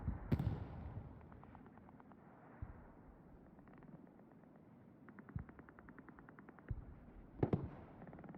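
Rocket impacts in the WWII shooter Hell Let Loose, heard as distant muffled booms scattered over the clip, with one sharper blast near the start and another near the end under faint battlefield rumble.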